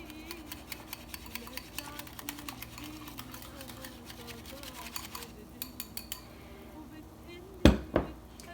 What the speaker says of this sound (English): I'm going to add 3 tablespoons of olive oil, and just give that a little whisk